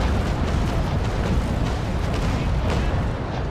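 Continuous heavy booming roar of ship cannons firing a broadside in the Naval Action game, a dense rumbling barrage filling the whole stretch without pause.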